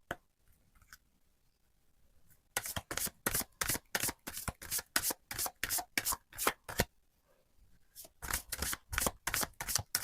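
Lenormand and tarot cards being riffle-shuffled by hand, quick rhythmic bursts of crisp flicking slaps in two runs separated by a pause, close and clear with no talking.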